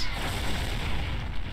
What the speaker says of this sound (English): I think we can just empty the torpedo tubes and win this